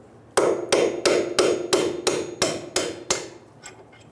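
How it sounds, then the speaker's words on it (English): Eight sharp metallic hammer blows on a punch, knocking a suspension bolt out of a 2000-2007 Ford Focus front knuckle in a steady rhythm, each strike ringing briefly, close and alone. "Using a hammer and a punch, I'm going to remove the bolt."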